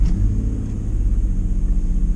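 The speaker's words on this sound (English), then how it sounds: "The Xterra's got a pretty good startup sound." A 2011 Nissan Xterra Pro-4X with a 261-horsepower engine idles after startup, its exhaust giving a steady, low, close rumble with slight pulsing and no voices.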